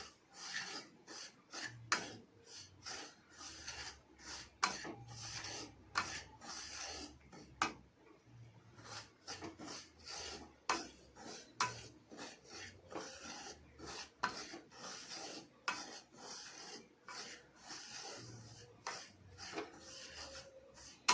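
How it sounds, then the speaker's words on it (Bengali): Semolina dry-roasted in a pan is stirred with a spatula, giving repeated scraping and rasping strokes in a steady rhythm, close and fairly quiet, with no talking. "এবার এর মধ্যে সুজি এক বাটি দিয়ে দিই সুজিটা ভালোভাবে ভেজে নেব"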